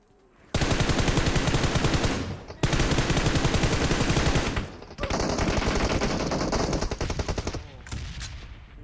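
Sustained automatic gunfire from the mobile battle-royale game PUBG Mobile, loud and near, firing in several long bursts separated by brief pauses, with no voices over it.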